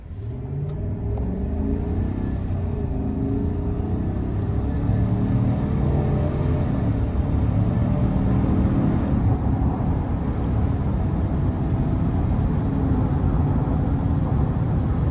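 A deep 5.3-litre V8 engine rumble builds steadily as a 2026 Chevrolet Silverado 1500 High Country pickup accelerates, heard from inside the cab with continuous road noise and no talking.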